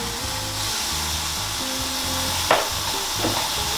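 A stuffed roast sears in a hot pan, giving a steady close sizzle and fry with a brief sharper crackle partway through, and no voices.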